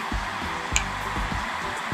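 A coffee roasting machine's drum turns with its airflow fan running, giving a steady broadband whir with faint low mechanical knocks throughout, plus a brief high click near the middle.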